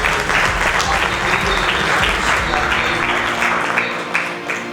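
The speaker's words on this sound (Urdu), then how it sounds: "شماؤں اور اشفاق کی زوردار تالیاں بجائیں" An audience at an education motivation seminar claps loudly and continuously, a thick wash of applause that thins slightly toward the end.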